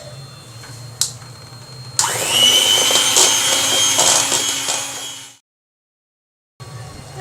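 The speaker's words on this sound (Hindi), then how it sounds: "इलेक्ट्रिक बीटर के साथ मैंने इसको सिर्फ 2 मिनट जो है हाई स्पीड पर रख के इसको बीट किया है।" An electric beater whirs steadily through butter cake batter at high speed, starting abruptly after a faint background hum and a brief tap, running loud and close for a few seconds before cutting out into silence.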